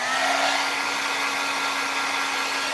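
A hair dryer blows steadily on a glitter craft background, making a constant close whooshing drone with a fixed motor whine and no pauses.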